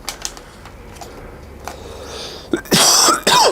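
A single person coughs several times near the end, loud and close, after a few faint clicks and quiet room noise.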